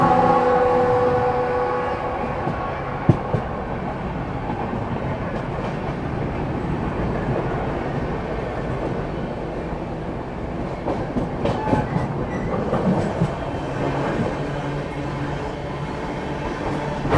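Garib Rath Express passenger train running on rails between Delhi and Varanasi near Moradabad, a steady loud rumble with rhythmic clatter and occasional sharp clicks, heard from inside the carriage with no talk.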